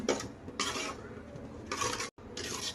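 Small-onion tamarind kara kuzhambu being mixed in a pot after salt and tamarind water go in, with several bursts of spoon scraping and rubbing against the metal separated by short pauses, close and moderately quiet.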